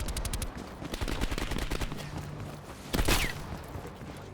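Gunfire in the video game Call of Duty Cold War: rapid bursts of automatic shots at the start, then scattered single shots and a louder burst near the end, with no talk.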